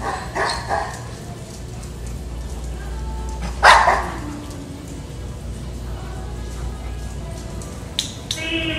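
A dog barks several times amid the ambient murmur of a store aisle, with one louder burst near the middle and a few fainter yips and whimpers scattered around it, set against a steady indoor background.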